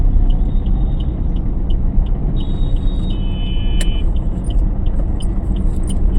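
Car engine idling and running steadily during a driving lesson, a loud constant low rumble with faint high electronic beeps and tones on top, no talk.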